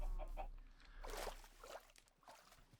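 Minecraft chickens cluck in a few short bursts with a faint background hum, brief and moderately quiet.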